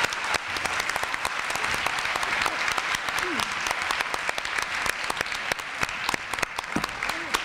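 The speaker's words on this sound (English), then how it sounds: "Big hand for our spellers" A crowd claps for the young spellers at the 2019 Charles County Spelling Bee. Sharp individual claps rise from a steady bed of applause, with a brief voice briefly breaking through partway.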